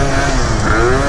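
A 70cc Yamaha Zuma scooter, a Prebug BWS build, runs loud and close, its buzzy engine note rising steadily under wind noise.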